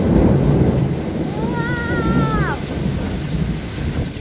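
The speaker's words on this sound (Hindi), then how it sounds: "नींद में खतरनाक हवाओं के साथ बारिश बहुत तेज हो रही है।" Heavy rain pours in a dense, loud roar with rumbling thunder and gusty wind, as a brief whistling tone rises and falls partway through.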